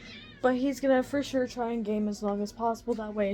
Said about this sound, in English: if you guys hear the animals like meowing a lot